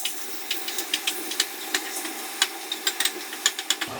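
Sausage fries briefly in butter in a pan: a soft hiss with a quick series of sharp spattering pops and ticks, fairly close, with no talking.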